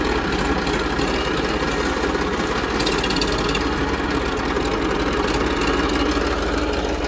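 Tractor engine with its silencer fully replaced, running steadily at a constant, close and loud idle with a rough low-pitched rumble throughout.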